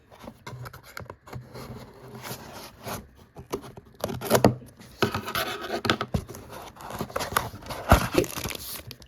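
A parcel's packaging being torn open by hand, close and fairly loud crinkling, ripping and rustling in irregular bursts with brief pauses between.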